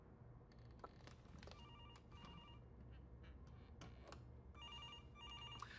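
A telephone rings in repeated electronic trilling bursts in a tense scene from an action film, the rings fairly faint against a low rumbling background.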